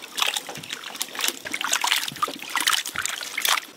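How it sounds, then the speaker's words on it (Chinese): Fresh lamb chunks being rinsed in water, close splashing, sloshing and trickling with irregular bursts as the meat is handled, no talk. "这是今天刚买的新鲜羊肉，我给它切成块。 再给它清洗一下。"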